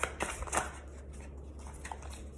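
A deck of tarot cards being shuffled, quick soft riffling flutters close by, fairly faint and without talk.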